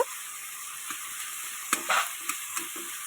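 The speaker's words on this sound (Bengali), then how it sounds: "একটু লাল লাল করে ভেজে নেব চিংড়ি মাছগুলো" Prawns fry in hot oil with steady broadband sizzle, broken by several sharp scraping stirs of a spatula in the pan, the loudest burst near the middle, with no talking.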